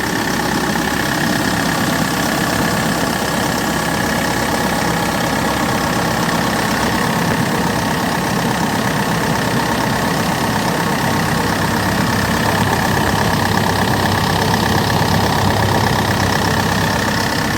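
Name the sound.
Kia Bongo III 4WD truck engine idling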